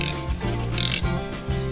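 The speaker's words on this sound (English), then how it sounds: "here are our beautiful little piglets" Little piglets and pigs on a pasture grunt and oink in a busy overlapping chorus, repeated squealing snorts close by with no speech.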